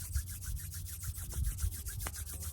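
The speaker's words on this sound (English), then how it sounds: "rub your own healing hands together" Hands rubbing together close up during an outdoor Reiki session at Monument Rocks, a steady rhythmic brushing friction with quick back-and-forth strokes throughout and no voice over it.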